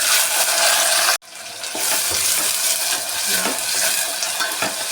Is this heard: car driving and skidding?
no